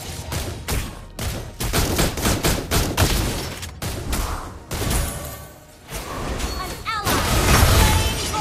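Rapid gunshots from Granger, the hero in the mobile game Mobile Legends, crack out in quick bursts with booming impacts, loud and close, mixed with game effects and character voice lines.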